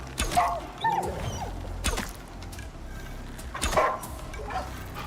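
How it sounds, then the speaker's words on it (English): A wolf in a video game growls and barks in short bursts, a few separate yelps and snarls spaced across the moment, fairly close over a low game background rumble. "Oh, it's a wolf."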